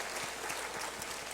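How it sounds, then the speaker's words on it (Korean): A church congregation claps together during a worship service, a dense and even patter of many hands that stays soft and distant throughout the short stretch. "박수로 한번 영광 돌리겠습니다."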